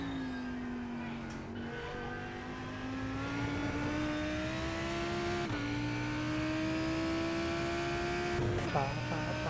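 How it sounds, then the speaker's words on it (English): A race car engine in the iRacing sim at a Daytona 10-hour race drones steadily, its pitch slowly rising and shifting through gear changes. It stays loud and continuous for the whole stretch. "see if the sound of the car and whatnot's coming through"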